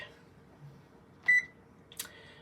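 An oven's electronic control panel gives a short clear beep, followed by a second fainter tone after a button press, in a quiet kitchen.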